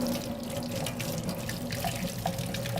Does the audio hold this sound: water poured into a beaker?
yes